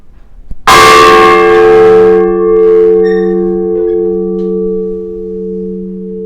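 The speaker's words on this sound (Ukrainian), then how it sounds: "Так звучить найбільший дзвін кафедрального собору." A single heavy strike of the largest bell of the Spaso-Preobrazhensky (Transfiguration) Cathedral, loud and close, followed by a long, humming ring that slowly fades.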